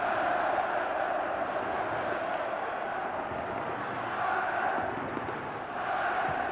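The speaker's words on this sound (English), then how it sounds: "The crowd get behind England at last." A large football crowd at an England versus Ireland match roars and chants in a steady, distant wash of voices, rising and dipping slightly while commentary carries faintly over it.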